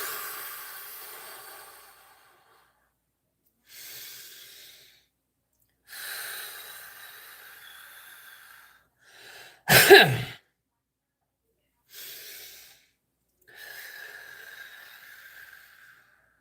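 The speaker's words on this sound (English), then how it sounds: "Deep breath." A deep breath drawn in and released, close to the microphone, with softer breathing sounds before and after in an otherwise quiet room.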